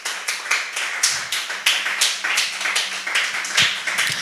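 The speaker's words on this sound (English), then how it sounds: "A round of applause for them." Small audience at a school spelling bee clapping for the contestants, a sparse, uneven patter of hand claps from a modest group with no voices over it.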